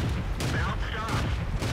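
A Bofors autocannon mounted on a Cruiser IV tank in a tank video game fires a steady string of heavy thumping rounds about every half second, set against dense, rumbling battle noise.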